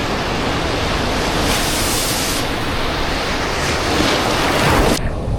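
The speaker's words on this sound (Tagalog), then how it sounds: "Habang kinukuhanan ko yung dagat." Sea waves roll in at a beach campsite, a loud continuous wash of surf with rising and falling swells, heavy wind buffeting the microphone, and no one speaking.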